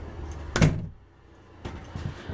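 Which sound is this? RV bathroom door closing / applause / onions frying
RV bathroom door closing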